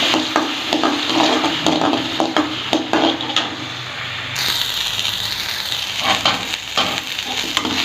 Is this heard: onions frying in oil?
yes